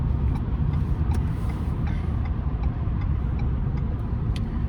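A Ford F-150 pickup towing a gooseneck trailer cruises on a highway, giving a continuous low rumble of road and engine noise from inside the cab, with faint light ticks over it.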